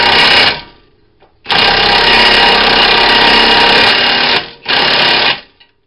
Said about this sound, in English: So I grind down a little bit more.